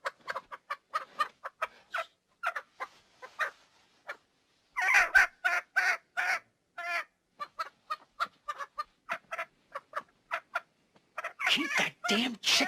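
A chicken clucks in a film scene, with short, bursting clucks and squawks coming in irregular rapid runs separated by brief silences, loud and close.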